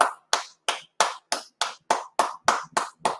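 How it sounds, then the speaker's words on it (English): About ten sharp, evenly spaced claps ring out clearly, a steady rhythmic clapping from a single audience source, close and loud with no talking. "Clap it up."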